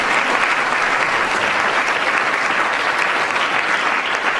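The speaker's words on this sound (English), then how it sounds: "give yourselves a round of applause" A large audience at a gathering claps in sustained, dense applause, steady and even throughout with no voices breaking through.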